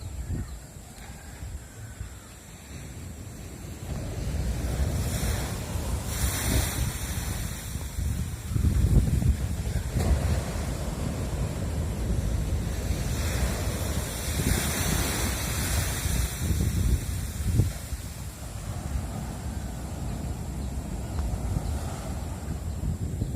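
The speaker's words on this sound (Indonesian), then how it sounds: "Ombaknya besar." Big sea waves in the Bali Strait roar as a steady, loud wash of surf, swelling in places, with wind rushing across the microphone and no voices.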